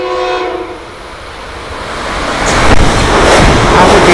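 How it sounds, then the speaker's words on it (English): Train speeding through a station without stopping, horn blaring as it nears, then a loud roar and clatter of cars rushing past close by the platform, with no voices. "I don't think this train's stopping."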